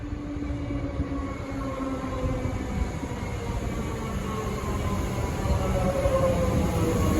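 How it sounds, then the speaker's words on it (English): A Metro Comeng electric train arrives at Parliament Station, a steady loud rumble of wheels on rail with tonal motor whine slowly falling in pitch as it slows, continuous for several seconds. "754 Broadmeadows service now arriving on platform number 3"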